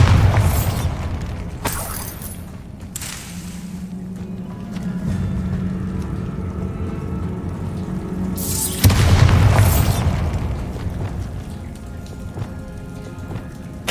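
Two heavy magical blasts from a Bombarda spell in Hogwarts Legacy boom out a few seconds apart, each a loud thudding burst over a steady rain-like ambient wash.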